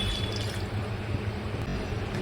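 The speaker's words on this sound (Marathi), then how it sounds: "थोडं पाणी टाकून घेऊया" Water poured into a pot of cut potato curry being cooked for a traditional Maharashtrian Holi thali, giving a steady, soft splashing flow that fills the short stretch without any talking.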